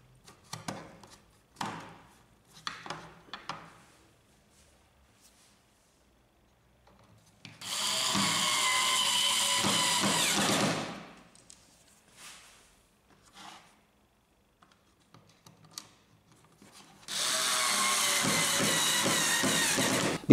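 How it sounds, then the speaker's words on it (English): Screws are driven back in to hold the wiper blade on an HP W1106A laser toner cartridge, heard as scattered small clicks and scrapes with two sustained bursts of whirring motor noise, close up and with no voices. "Reinstall the wiper blade with the two screws."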